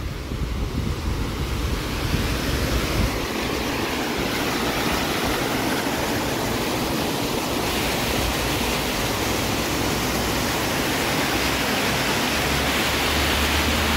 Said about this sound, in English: The waterfall of Jezin is right underneath us.